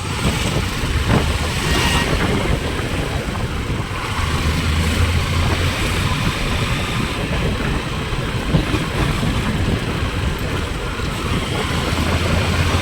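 A steady engine rumbles continuously with road and wind noise, as if heard from a moving motorcycle, no voices present.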